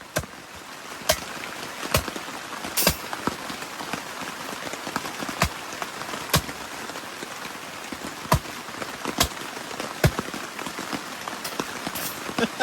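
Hard rain falls steadily on a tent at Trout Lake State Forest Campground near Gladwin, Michigan, on a chilly 40-degree day, with a dense patter and scattered louder drips and taps striking close by.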